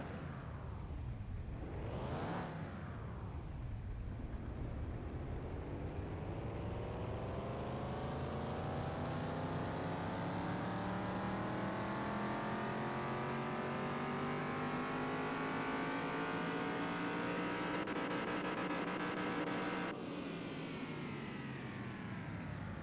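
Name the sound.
car engine revving during a dyno run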